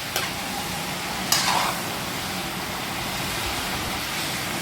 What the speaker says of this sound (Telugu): ఇలా మొత్తం అంతా ఆయిల్ అండ్ గీ దీనికి పట్టేంత వరకు బాగా మిక్స్ చేసుకుని